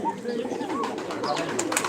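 Pigeons coo in a flock, soft overlapping warbling calls close at hand, with a faint voice in the background.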